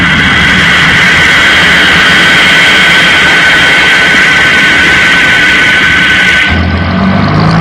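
A jet plane engine in the 1967 puppet series Captain Scarlet and the Mysterons, a loud, continuous high-pitched whine and roar that holds steady, then cuts to a lower rumble near the end.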